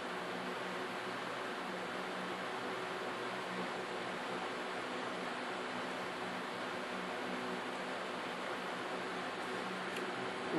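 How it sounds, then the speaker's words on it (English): A fan running in a room, producing a steady, faint, broadband whoosh that stays even and unbroken throughout with no other sounds. "The sound you hear is a fan that I have running."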